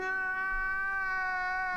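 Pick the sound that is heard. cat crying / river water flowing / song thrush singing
cat crying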